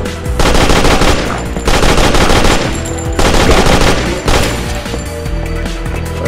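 Rapid automatic gunfire from a video game, four long loud bursts of machine-gun fire separated by brief pauses, close and dense with no talking.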